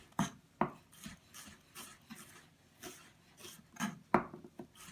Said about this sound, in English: Make cuts in it, going all the way to the root but not through the root, and then just use a cross cut.